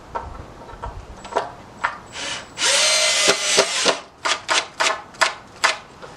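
A power drill drives a screw into wood in a workshop, first with short trigger bursts, then a sustained whirring run, followed by a string of quick, loud pulses.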